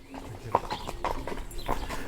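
A horse walks past with clear clip-clopping hooves, several distinct strikes in an uneven rhythm at close range, while children shout faintly in the background.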